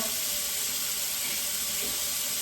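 Steady, dense sizzling hiss from tomato frying in a hot pan for Mexican rice, constant and close with no pauses.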